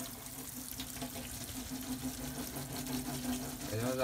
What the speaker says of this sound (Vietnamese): Rồi anh em xem, anh em sẽ rót nước lạnh qua